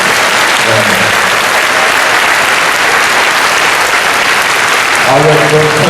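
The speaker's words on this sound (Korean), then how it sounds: "여러분, 박수 한번 쳐주십시오" Loud, sustained applause from a large audience at a Korean world mission conference, dense clapping filling the whole stretch with a brief voice near the start and end.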